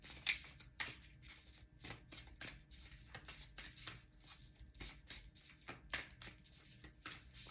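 A deck of cards is shuffled close by, with repeated crisp riffles and flutters in quick bursts, quiet and without any talking.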